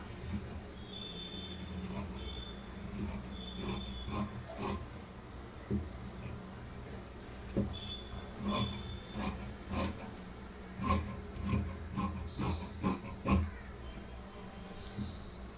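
Scissors snip through folded blouse fabric in a series of close, irregular cuts and rasping strokes, with a faint thin tone now and then.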